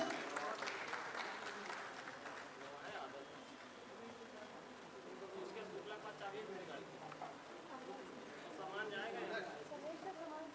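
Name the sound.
conference audience applause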